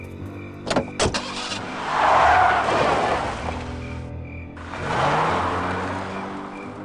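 A car in the game Full Throttle Remastered starts up with a couple of sharp mechanical clunks, then drives past twice, each pass a swelling engine roar that rises and fades, heard close and loud.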